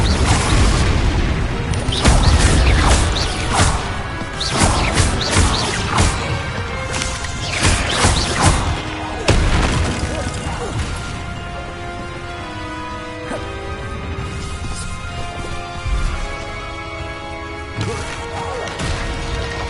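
Spell blasts and impacts in Hogwarts Legacy, dense loud bangs, whooshes and crashes in quick succession at first, thinning later into scattered hits over a lingering game soundtrack.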